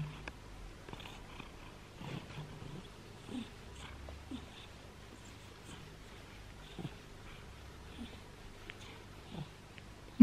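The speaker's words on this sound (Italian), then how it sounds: "Sentite le fusa?" A pet cat purrs softly and steadily close by, a low continuous rumble with faint breathy pulses and a few small snorts, no talking over it.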